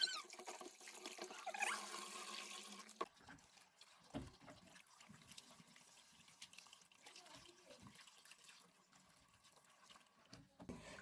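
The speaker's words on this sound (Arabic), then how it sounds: "كده غسلت السمك بالملح والدقيق زي ما انتوا شايفين" Tap water runs into a sink while fish is washed with salt and flour, a soft steady splashing stream that fades to quieter handling sounds and faint dripping.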